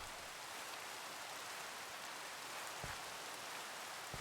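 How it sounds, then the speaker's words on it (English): Steady rain hisses evenly in Minecraft, a faint, unbroken wash of falling drops with no voices over it. "Oh, now it's raining as well."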